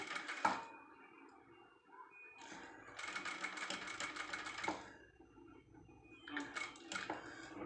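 Sewing machine stitching the edge of a boat neck blouse, running in bursts of rapid, steady needle chatter broken by short pauses, close and fairly quiet, with no talking.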